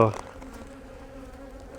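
Sparse honey bees hum steadily in a weak split hive, a thin continuous buzz after a brief louder knock at the start, close and alone without voices.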